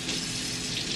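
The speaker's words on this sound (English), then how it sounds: "I'm rinsing it under cold water" Cold tap water runs steadily over a burned hand under a faucet, a continuous close splashing rush lasting about a second with no talking.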